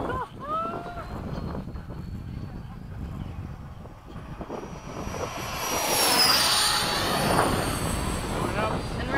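An FMS 70mm F/A-18 model jet flies at an airfield, its ducted-fan whine rising and sweeping past louder in the second half, with wind buffeting and people talking early on.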